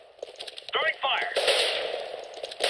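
Gunfire in the video game CS:GO, a few sharp cracking shots over game sounds and a burst of noise, moderately loud and close, with speech-like sounds mixed in.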